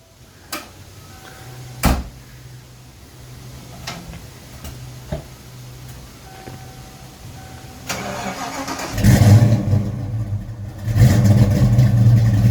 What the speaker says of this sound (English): You gonna give us a cold start? Yeah, listen to this, fellas.